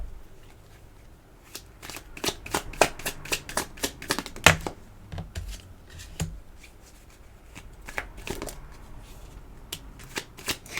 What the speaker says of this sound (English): I want to pull more cards for this, please.